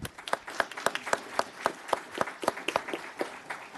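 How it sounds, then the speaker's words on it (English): A small group claps at a community gathering, a sparse, uneven patter of distinct individual claps rather than a dense roar, moderately close and fading slightly toward the end. "Let's give another round of applause."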